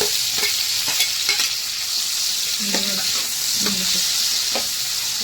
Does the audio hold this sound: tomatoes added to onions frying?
yes